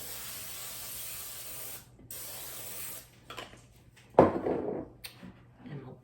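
Cooking spray is hissed into a large casserole dish while a chicken and rice casserole is being made, with a short spray burst near the middle and a louder one near the end, plus faint handling noises.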